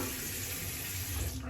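A tap runs steadily into a sink while a shaving brush handle is rinsed under it, a close, even water hiss with no break.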